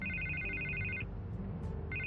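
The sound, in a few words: telephone ringing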